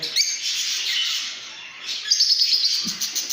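Small birds in breeding boxes, two chicks with their parents, chirp and tweet continuously in a steady overlapping chatter at close range, with brighter sharp calls near the end.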